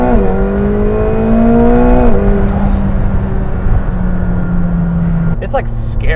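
A 2019 McLaren 720S accelerates hard in second gear from about 40 mph, its engine note rising steadily and loudly inside the cabin, then dropping at a gear change, while a person talks over it.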